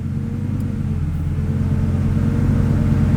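A Lamborghini with a manual gearbox idles in a deep, steady rumble as a nine-year-old slowly lets out the clutch, loud and close, with no talking.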